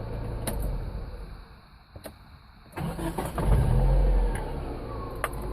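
A Geo Tracker engine, recently converted from automatic to manual shift, cranks, catches and settles into a loud, steady idle close by, with no talking.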